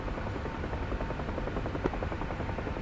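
A UH-1 Huey helicopter in the DCS flight simulator, flying a night mission, gives a steady, rhythmic rotor thump over a constant engine drone at moderate level, with no speech.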